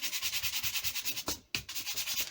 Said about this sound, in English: I'm just going to brush it in various directions